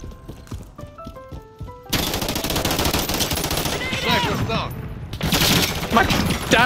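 Rapid gunfire from a weapon in the Call of Duty beta video game, loud and continuous. Dense bursts follow a brief quieter stretch of tonal game sounds, with a short lull before the shooting resumes.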